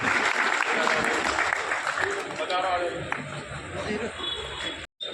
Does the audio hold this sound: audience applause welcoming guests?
yes